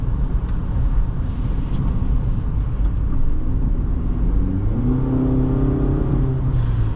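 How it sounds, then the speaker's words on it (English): Engine of a 2008 Toyota RAV4 on the move, a steady close road drone from inside the cabin with tyre and wind noise, rising in pitch as it accelerates near the end. "my favorite part about this RAV4 today is the engine sound"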